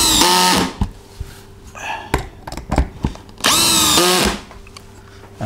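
A power drill drives a screw into a piece of wood during boat door construction, with two loud whirring bursts separated by quieter clicks and handling noises.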